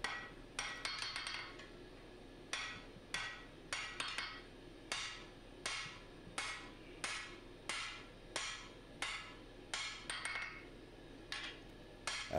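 A hammer forges a large, wide steel bar for a Musso Bowie knife, each blow ringing sharp and metallic in a steady rhythm of about one or two strikes per second, with brief pauses between runs.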